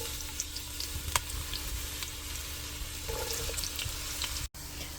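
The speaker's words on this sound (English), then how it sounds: "Our onions have been frying very well." Chopped onions frying in a pan during bulk preparation of a spicy chicken dish, a steady low sizzle with occasional faint crackles and a brief stir or clatter, faint and continuous without any talking.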